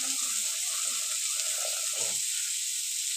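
Water is poured into a cooking pot set to boil, giving a steady, loud hiss that stays constant throughout, with faint low clatters and a brief thud underneath.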